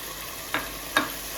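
Ginger garlic paste, about two tablespoons, fries in a pan with a soft, steady sizzle. Two brief scraping stirs rise above it, close by.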